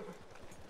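A quick run of hoof clip-clops, a few soft rhythmic beats, brief and fairly faint.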